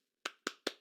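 Three sharp claps, evenly spaced and fairly close, ring out alone, applause from a single attendee at an online SQLDay 2021 conference session.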